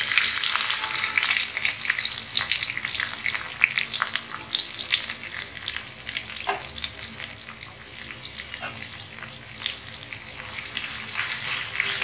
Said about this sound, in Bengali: এখন আমি এর ভিতরে কেটে রাখা পেঁয়াজ ছিল,